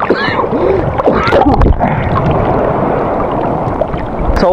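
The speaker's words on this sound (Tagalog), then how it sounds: "Lalaki ng alon." Large ocean waves roll onto a beach at Lobo, Batangas, with a steady loud wash of surf and water that keeps up for the whole stretch. People talk faintly over it.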